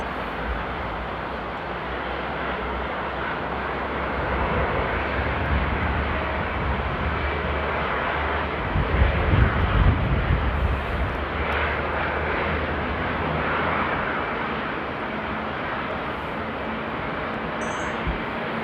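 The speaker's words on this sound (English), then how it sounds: "Oh, listen to that engine startup." El Al airliner jet engine spooling up during pushback at Amsterdam Airport, a steady deep roar with low rumble that swells slightly midway, heard from a distance without voices.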